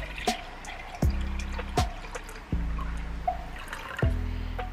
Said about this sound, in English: pour 2 cups of grapefruit juice in your cup.